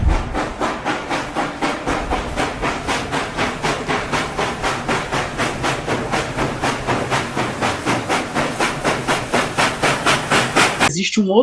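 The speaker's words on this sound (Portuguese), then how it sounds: "nós tínhamos aí na primeira Revolução Industrial os navios e os trens que eram movidos a vapor" A steam train chuffs rhythmically with regular hissing puffs and clattering wheels, loud and close, the steady beat holding throughout before cutting off abruptly.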